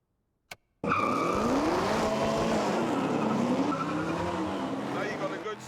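A car launches hard from a standing start in a drag race, its engine roaring loud and close with tires squealing and skidding for several seconds after a brief click.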